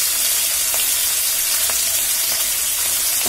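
Katla fish frying in hot oil, a dense, steady close sizzle and crackle with faint intermittent pops, continuing without pause and with no voices.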